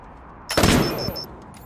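A gunshot in Wasteland 3, a single sharp crack with a short rattling tail and faint metallic ringing after, loud over quiet game ambience.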